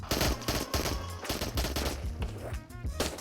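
Full-auto pistol fire in the video game Into the Radius, a fast rattling string of close, loud shots that runs unbroken for the whole stretch, with no talk over it.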